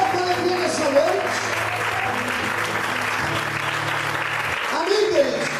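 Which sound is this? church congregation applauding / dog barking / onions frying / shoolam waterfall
church congregation applauding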